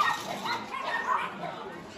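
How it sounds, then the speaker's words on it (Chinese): A Labrador at a market gives short yips and whimpering barks, close and fairly loud, while someone talks over it. "这个是拉布拉多，对不对？"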